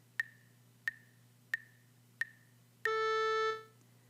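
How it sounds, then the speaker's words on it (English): A music lesson demonstrates a pitch lasting one quarter note: four short, evenly spaced clicks keep the beat, then a clear synthesized tone sounds for one beat and fades away, all quiet and isolated. "A pitch that has a duration of 1 quarter note would sound like this."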